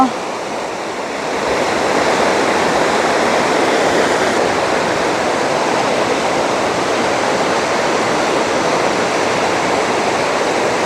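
A loud, steady roar of rushing floodwater fills the whole clip, broad and continuous without pause, close to the listener.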